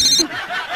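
Telephone ringing indoors during a Hindi comedy scene, a steady electronic ring heard briefly and fairly loud before cutting off, with faint voices behind it.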